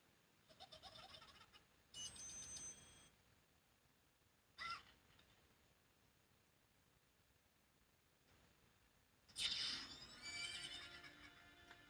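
Horse neighing in a video game: several bright, harsh whinny bursts scattered over a quiet stretch, loudest near the end, with no talk.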